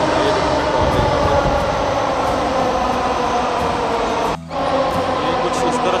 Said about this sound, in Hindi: ये कुछ इस तरह से है मेट्रो का व्यू